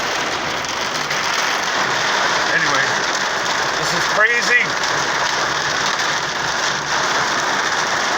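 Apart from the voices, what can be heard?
rain and hailstorm on a car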